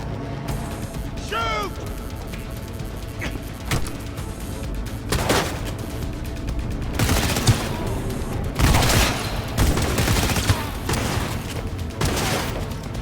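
Gunfire in the Cyberpunk 2077 video game, with bursts of automatic fire, single shots and booms scattered across a battle, loud and irregular, with shouted voices over the fighting.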